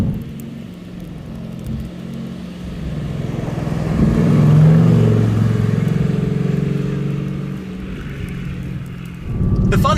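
A Mercedes-AMG GT R driving with drift control engaged: a steady engine drone that swells and fades, heard from inside the car, with a brief rise at the end.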